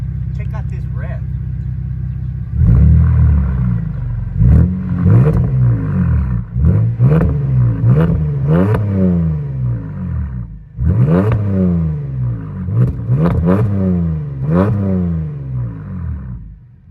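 A Pontiac G8 with an upgraded exhaust idles with a low drone, then revs loudly and close several times, the engine pitch climbing and falling in repeated surges.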